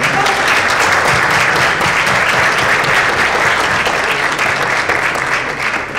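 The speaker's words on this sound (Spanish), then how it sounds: "les pido un fuerte aplauso para nuestros primeros conferencistas" A crowd applauds steadily and loudly for several seconds for speakers at an awards event conference, dense clapping throughout that fades slightly at the end.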